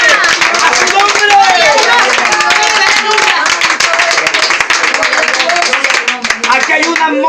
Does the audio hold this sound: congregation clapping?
yes